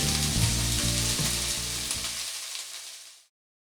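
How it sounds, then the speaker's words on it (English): A pan of chicken, spinach and tomato sizzles and bubbles steadily at close range, a dense crackling fry that fades out abruptly near the end. "it's been simmering down nicely"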